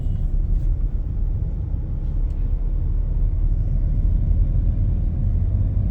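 Steady, low engine and road rumble from inside a car with an intelligent manual transmission, cruising in third gear near 2000 rpm, continuous and even throughout.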